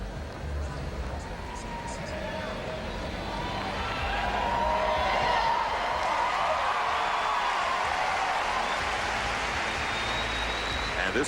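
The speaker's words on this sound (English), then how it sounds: "hear the yelps of joy from his teammates in the background." Arena crowd at a men's team final of the gymnastics world championships cheering steadily, with excited yelps from teammates in the background; the roar is continuous and swells partway through.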